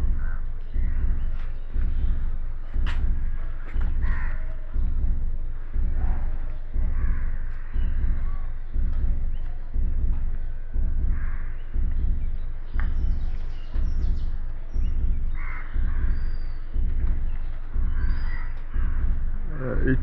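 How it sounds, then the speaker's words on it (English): A wet crow caws repeatedly in the rain, its harsh calls coming in a steady regular rhythm of roughly one per second, loud and close, with patter and light background noise between calls. "The crow is waiting"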